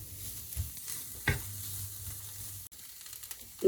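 Ginger, garlic and green chillies frying in a pan while being stirred, making a steady close sizzle broken by spatula scrapes and clinks, with no speech.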